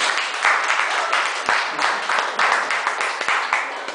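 An audience applauds and cheers at an English-language seminar on studying abroad, a dense, steady wash of clapping with bursts of louder claps lasting throughout, with no speech over it.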